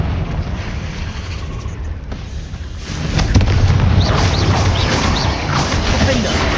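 A Confringo blasting spell in Hogwarts Legacy erupts into a loud, deep rumbling explosion about halfway through, swelling over an earlier dull background roar and then lingering as a sustained, heavy boom with crackling debris.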